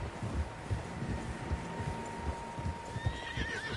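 Several horses in a video game neigh and whinny while hooves clip-clop along, a fairly close, uneven herd sound over light wind, with no talking.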